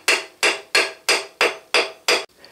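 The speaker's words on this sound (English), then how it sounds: "use only copper or brass punches, soft hammers," A hammer strikes a brass punch to drive roll pins out of a Bridgeport mill power feed shaft, giving seven loud, evenly spaced metallic blows about a third of a second apart, close up with no talking.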